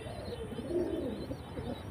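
Pet pigeons, including a male bird, give low throaty coos that swell midway and then fade, close and fairly quiet, with no voices present.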